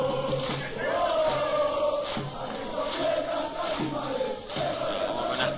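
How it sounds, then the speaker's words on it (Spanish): Alavés football ultras chant and party outside as their team's bus arrives: a dense, loud crowd of voices sings continuously, with steady thumping beats marking the rhythm throughout. "La barra del Alavés metiendo fiesta."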